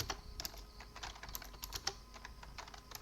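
Rapid typing on a computer keyboard while editing a config in vim, a close, steady patter of sharp key clicks with no talk.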